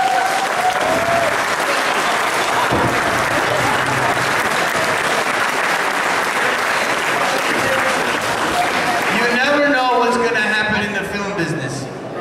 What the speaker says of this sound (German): Also großen Applaus für Tun.